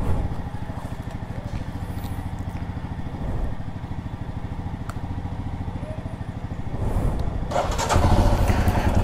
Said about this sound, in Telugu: ఇంజన్స్ ఆల్రెడీ వార్మ్ చేసేసాను